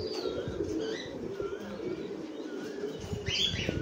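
Pigeons at a bird farm coo and chirp, with soft low cooing running throughout and scattered higher chirps, plus faint rustling and shuffling nearby.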